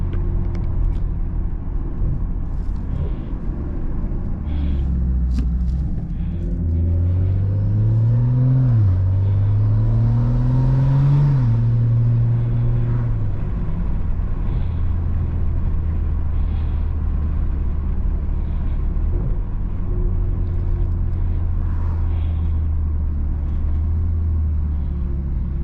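Stage 2 tuned BMW M340 engine cruising on the road, a steady low drone with a rising and falling pitch swell midway, continuous and close throughout with no talk.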